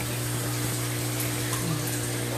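Water bubbling up under netting in a filter bucket of a 900-gallon indoor garage aquaculture system for tilapia, a steady close gurgling rush with a constant pump-like hum beneath it.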